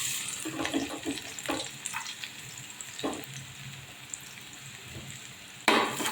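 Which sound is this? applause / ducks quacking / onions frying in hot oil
onions frying in hot oil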